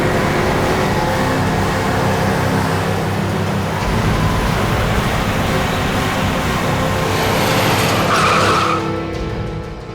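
A car skids with tires screeching as it brakes to a stop in the middle of the road, a loud, sustained roar of rubber and engine lasting several seconds before easing off, with no talking.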